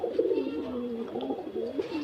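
Pigeons kept on a rooftop coo in a close, continuous rolling murmur, several low throaty calls overlapping for two seconds.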